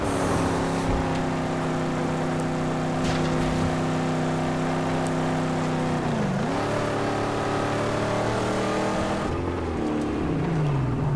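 Engine drone in a video game, from a car rebuilt like a tank with bigger engines: a steady layered hum that dips in pitch around the middle and again near the end, running loud and continuous with no talk.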